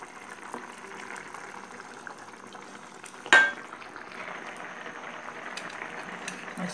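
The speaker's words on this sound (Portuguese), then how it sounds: "Esse arroz já tá fervendo." A steady low bubbling of rice boiling in a pot, with one sharp clink of a utensil partway through.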